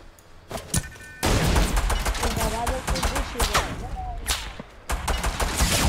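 Rapid bursts of gunfire crack in quick succession, loud and close, with several sharp shots scattered through a busy Fortnite game soundscape.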